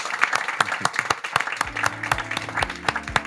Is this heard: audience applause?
yes